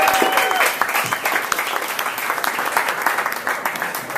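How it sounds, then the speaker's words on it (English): A comedy club audience applauds comedian Peter John Byrnes at the close of his set, a loud, dense and steady wash of clapping that fills the whole stretch with only small swells, with a brief tone sounding near the start. "Peter John Byrnes, everybody, give him a round of applause"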